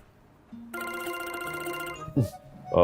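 A telephone rings with an electronic, tonal chime lasting over a second, followed by a few brief soft knocks and rustles nearby.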